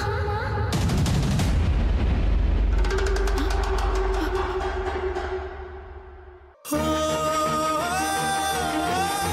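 Gunfire in a Bengali TV drama scene: loud booming shots, then a quicker run of sharp pops, before the action cuts abruptly to dramatic music.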